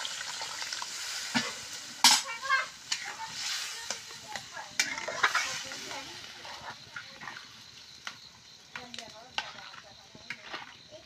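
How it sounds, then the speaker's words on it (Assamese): Hot water is poured into a hot frying pan for a village-style fish curry with jalphai (olive) sour, bursting into loud, close sizzling and crackling alongside stirring clatter, while a person talks over it. "গৰম পানী দেই গৰম পানী"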